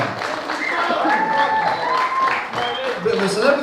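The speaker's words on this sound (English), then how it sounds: "So guys, give a massive round of applause to one of your own, Ismail Iqbal." Audience applause for a fighter at a combat sports league event, continuous clapping mixed with crowd noise and voices talking over it throughout.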